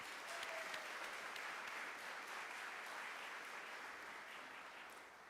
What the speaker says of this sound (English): A round of applause for our faculty and staff.